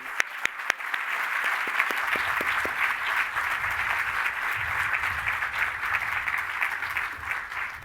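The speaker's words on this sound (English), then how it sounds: "So a round of applause for all of the attendees." Audience at a Georgetown Law honoring ceremony applauds, beginning with a few scattered claps that quickly swell into a full, even roar of clapping that stays strong to the end.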